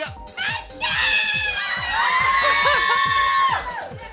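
A studio staff audience shouts together on cue, a burst of cheering and yelling voices that swells loudly for several seconds before fading.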